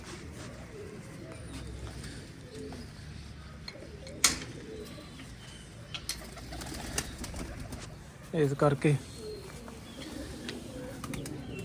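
Pigeons kept by a breeder give a short burst of low cooing near the end, with a sharp knock earlier and a person speaking briefly over steady background noise.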